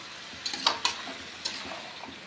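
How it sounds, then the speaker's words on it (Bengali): Chicken sizzles with spices in a kadai for a Bengali chicken curry, with a soft steady frying hiss broken by a few sharp scraping clinks of a spatula against the pan. "চিকেনটাকে ভালো করে কষিয়ে নেব।"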